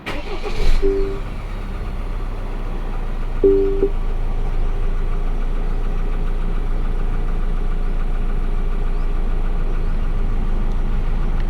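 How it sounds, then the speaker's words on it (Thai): A Ford Ranger pickup engine turns over by remote start and settles into a steady, loud, close idle that runs on evenly with no talking. "สามารถสั่งสตาร์ทรถได้เลย ผ่านรีโมทนะครับ"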